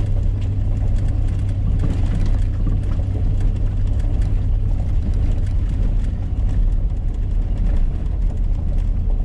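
A truck engine runs steadily at about 1200 to 1300 RPM with a deep, constant rumble and drone, loud and close, with no break throughout.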